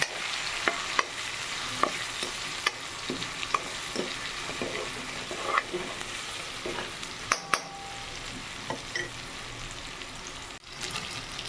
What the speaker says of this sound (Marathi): red chilli salt turmeric powder मसाला पावडर हे सगळं मी याच्यामध्ये ॲड करून घेते मग याला फ्राय होऊ द्यायचं